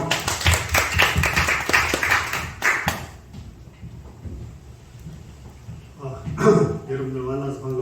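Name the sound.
audience applause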